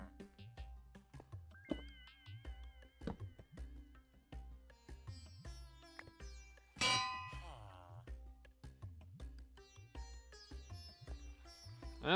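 A village bell in Minecraft, wired to a pressure plate and repeater, rings in a few bright metallic clangs among quieter clicks and game noises, with a cat meowing at points.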